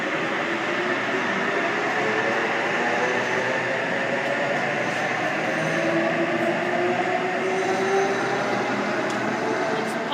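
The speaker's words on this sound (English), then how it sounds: "departing platform 1 at Chatswood T63, St Rehab, St Mary's service" A train pulls away from platform 1 at Chatswood station on a T63 St Mary's service, a steady loud rumble of wheels and motors with a rising whine, heard close and continuous.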